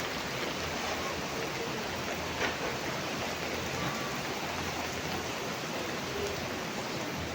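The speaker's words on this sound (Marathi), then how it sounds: "एकदम जोरात पाऊस सुरू झालेला आहे." Heavy rain pours down in a steady, unbroken wash of hiss that stays loud and even from start to finish, with no voices.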